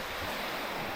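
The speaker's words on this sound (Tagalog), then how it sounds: "So, ito yung dagat, yung pakita ko sa inyo guys." Sea waves washing onto the shore along a hot coastal road, a steady broadband wash of surf with wind noise buffeting the microphone throughout.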